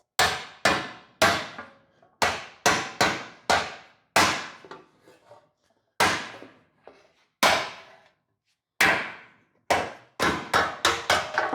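Hammer blows shrinking sheet metal on a 1951 Ford: loud, sharp metallic strikes come in quick bursts and pairs with short pauses, each ringing briefly before the next hit, and no one speaks.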